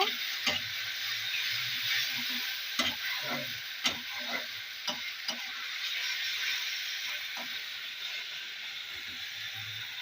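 Garlic and ginger paste stir-fried in oil for a fish curry, a steady broadband sizzle with scattered sharp spatula scrapes and clicks against the pan, loudest early and continuing alone without talk.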